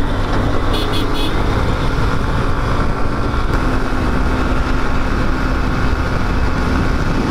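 Motorbike engine and road rumble heard while riding along a road, a loud, steady roar mixed with wind buffeting and traffic noise, someone speaking over it.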